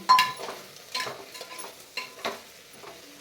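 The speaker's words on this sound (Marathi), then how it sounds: "आता या तुपामध्ये आणि मसाल्यामध्ये हे सर्व जिन्नस आपल्याला एक मिनिटभर परतून घ्यायचे" Vegetables and spices are stirred and sautéed in ghee for veg biryani, with several scraping stirs of a spoon against the pan over a light, close sizzle.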